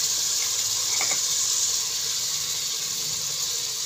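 Water is poured onto potatoes frying with spices in a pan, producing a loud, steady sizzling hiss close up that continues without a break.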